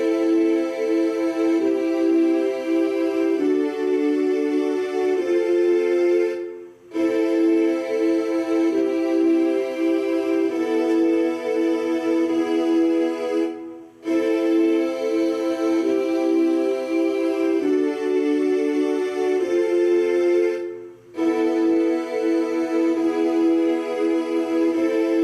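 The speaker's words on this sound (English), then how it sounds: "So the strings here, they play the chords." A string section plays sustained chords in a symphonic pop arrangement of House of the Rising Sun, steady and full, with brief gaps between phrases and no voices.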